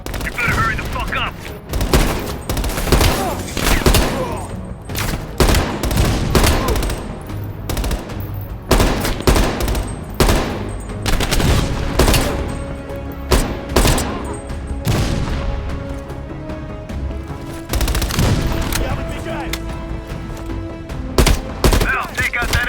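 Sustained machine gun fire from a Call of Duty: Black Ops Cold War mission, with loud rapid bursts rattling almost nonstop alongside booming explosions, a droning engine and voices speaking over the battle.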